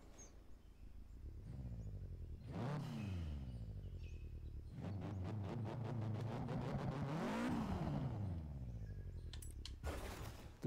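A car with a stock engine in the racing game Forza Horizon 3 accelerates and revs hard on the Jungle Coast Trail, sweeping up and down through gear changes, loud and close, with brief breaks between pulls.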